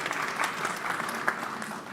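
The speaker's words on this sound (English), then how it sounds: "We'll do a round of applause" A round of applause at a conference session on seed and food value chains, a dense, steady wash of clapping from a sizable audience, sustained evenly for a couple of seconds.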